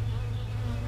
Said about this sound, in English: Get out of there, bee.